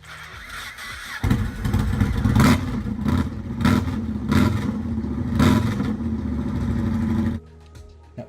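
Motorcycle engine running steadily on the road from the rider's position, a loud continuous mid-pitched drone with swelling revs and wind rush, starting abruptly after a quiet second and cutting off near the end.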